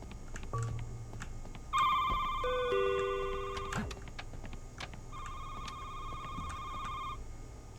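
A telephone rings with an electronic tonal trill inside a midnight supermarket-shift video game, sounding in two bursts of several seconds each, moderately loud over quiet background noise.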